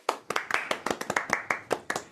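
Applause sound effect fired from a RodeCaster podcast console: a short burst of about a dozen sharp, evenly spaced claps, crisp and close, with no voices over it.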